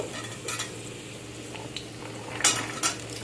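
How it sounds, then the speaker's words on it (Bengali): Cut drumsticks tossed into a pan of fried potatoes, faint clatters and scrapes over a low steady sizzle, with a sharper clack of pieces landing near the end. "কেটে রাখা সজনা ডাঁটাগুলো দিয়ে দিলাম।"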